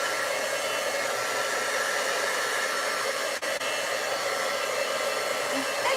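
A craft heat tool blows steadily up close to melt away hot glue strings, a constant loud whooshing hiss with one brief dropout midway.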